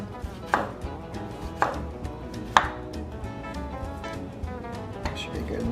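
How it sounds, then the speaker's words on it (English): A knife slicing tomatoes thinly on a cutting board for cheeseburgers, with a few distinct cutting thuds spaced about a second apart over a low, steady kitchen background. "now we're gonna slice up the tomatoes"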